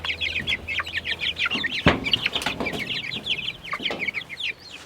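Several chickens cluck and squawk in a busy, overlapping chatter, fairly close, with a sharp knock partway through.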